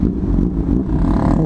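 A Honda CB 1000R motorcycle with its catalytic silencer removed, a GRS titanium exhaust tip and a K&N air filter revs hard. It gives a loud, steady, deep engine roar close by throughout, with no talking.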